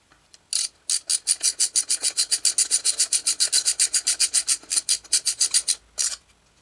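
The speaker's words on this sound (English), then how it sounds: "Tighten the hose clamp." A hose clamp is tightened on a pressure washer hose reel, producing a rapid series of about thirty close, crisp ratcheting rasps in an even rhythm, then a short pause and a final few clicks.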